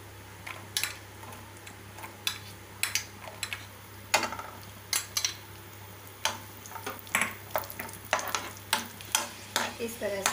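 Raisins being roasted in a pan for basmati rice kheer, with a faint low sizzle under repeated sharp ticking scrapes of a spoon against the pan, quiet and close, with a steady low hum underneath.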